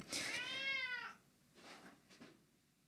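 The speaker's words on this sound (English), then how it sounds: "That's a very old cat." A very old cat gives one loud, drawn-out meow nearby, followed by a couple of softer, fainter vocal sounds.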